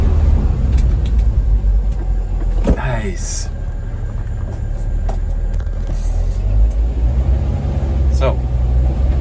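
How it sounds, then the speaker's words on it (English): Ford Ranger pickup driving down a neighborhood straightaway and braking, a steady close road rumble with engine drone throughout and a few sharper brake or tire sounds, with a voice speaking briefly. "I'm gonna use the brakes right here on this straightaway and see how they do."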